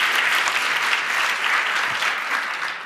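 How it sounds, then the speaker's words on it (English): Sustained applause from a room full of people at an anniversary celebration, steady clapping that holds for a few seconds and tapers off slightly at the end. "give her a round of applause"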